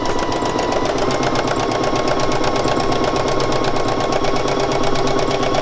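A sewing machine stitches at a steady pace on soluble fabric held in a hoop, with a loud, close, rapid mechanical chatter that stays continuous throughout.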